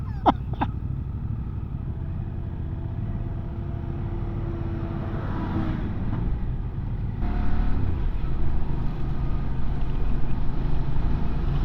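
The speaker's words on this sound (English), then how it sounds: "Tractor passing tractor." A tractor's engine drones past on a road, heard from a moving QJ Motor motorcycle, low and rumbling beneath wind, swelling slightly louder toward the end as it goes by.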